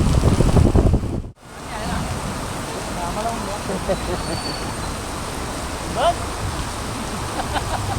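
Heavy rain pours on the Mumbai-Nashik highway near Bhiwandi, a dense, continuous roar like surf or wind blending with traffic noise, briefly dipping then resuming loud and steady.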